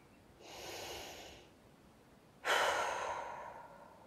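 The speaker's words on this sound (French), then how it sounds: "Prenez une respiration profonde." Two deep breaths during a guided sophrology relaxation session: a long airy inhale, a pause, then a louder, sharper exhale that fades slowly, close and alone.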